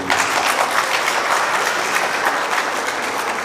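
Congregation at a First Holy Communion Mass clapping for the priest, a dense, steady burst of many hands applauding together close by, sustained without pause.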